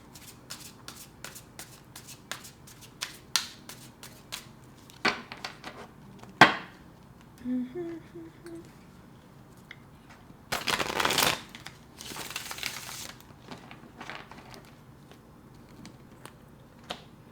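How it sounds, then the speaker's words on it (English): Tarot cards shuffled and pulled by hand: repeated crisp riffling flicks, a sharp slap, a few soft taps, then two longer dense bursts of shuffling, close and fairly loud with no talking. "I'm going to go ahead and pull cards for you guys."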